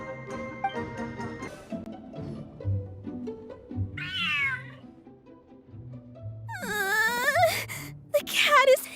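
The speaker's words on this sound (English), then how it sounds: "The cat is hissing at me, Miss Rosaria! I'm scared!" A game cat in a story event cries out in a couple of sharp, wailing meows over background music, loud and close, rising and wavering in pitch near the end.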